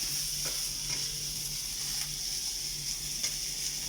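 Steady sizzling of fried rice in a hot iron wok, a continuous bright hiss with faint stirring scrapes and clinks, no talking.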